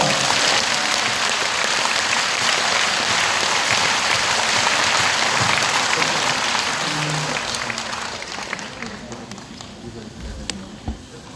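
A church congregation of about a thousand at a prayer-house service applauds, a long, loud wash of clapping that gradually thins and tapers off toward the end.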